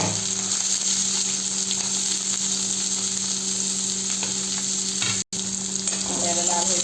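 Curry leaves and spices sizzle in hot oil in a pan for Maharashtrian eggplant bhaji, a continuous close frying crackle with steady hiss and a brief dropout near the end.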